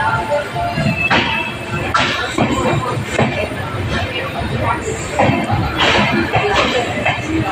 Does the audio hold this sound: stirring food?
no